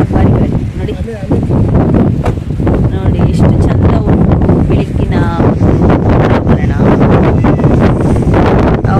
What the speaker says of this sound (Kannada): ಇದು ಭಾರಿ ಗಾಳಿ ಉಂಟು, ಭಾರಿ ಗಾಳಿ